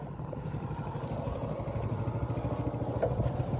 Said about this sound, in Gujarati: બાઈક આવી ગયું.